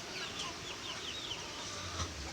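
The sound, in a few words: tiger chickens in the heat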